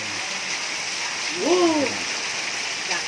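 Steady patter of rain fills the background during an outdoor Thai grilled-pork meal, with a brief hoot-like call rising and falling over it midway through.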